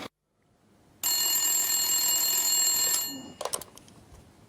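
An old telephone rings loudly with a bright electric bell for about two seconds after a short quiet lead-in, then cuts off, leaving a few clattering knocks and faint room noise.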